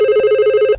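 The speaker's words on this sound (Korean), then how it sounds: "형수님한테서 전화가 걸려오더군요." Telephone ringing as a sound effect in a radio story, a steady electronic ring with a pulsing rhythm, loud and close, alone without voices.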